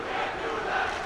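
Loud hockey arena crowd roaring at TD Garden during a Massachusetts high school girls' championship game, reacting to a very hard hit, a dense, sustained wall of shouting and cheering for about a second.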